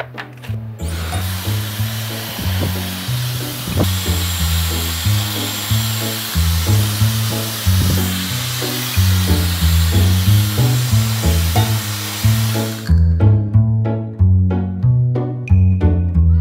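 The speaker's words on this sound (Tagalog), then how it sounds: "Mag-blower lang tayo ng hair." A loud, continuous hair dryer roar runs throughout, overlaid by rhythmic music with a steady bass beat that continues after the blowing stops.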